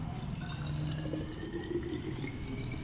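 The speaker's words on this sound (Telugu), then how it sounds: "వాటర్ పోసుకుంటున్నాను" Water is poured into a bottle for a money plant cutting, a steady, moderately quiet trickle and gurgle of filling liquid running throughout.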